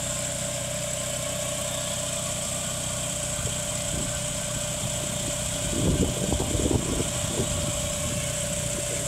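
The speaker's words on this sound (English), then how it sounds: "All right, see, it starts right up. Idle's great." The engine of a 1989 Chrysler Conquest TSi idles steadily, a constant close hum and whine with a brief burst of rustling partway through.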